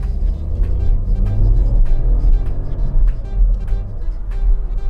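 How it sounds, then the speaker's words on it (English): The 1-liter three-cylinder engine of a 2021 Ford Puma ST-Line V in sport mode gives a low, steady droning hum from inside the cabin, with a mild rumble and little change in pitch. "This little 1 liter though kind of sounds good for a little 3-cylinder"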